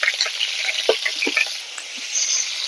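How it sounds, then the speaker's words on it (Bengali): Pointed gourd frying in mustard oil in a kadai, a close hissing sizzle with scattered pops and spatters, steady and moderately loud throughout. "তেলটা গরম হয়ে গেলে আমি পটলটাকে আগে ভেজে নেব"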